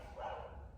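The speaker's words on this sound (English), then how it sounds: "I'm sorry about that dog in the background." A single short dog bark, muffled and somewhat distant, over a low background rumble.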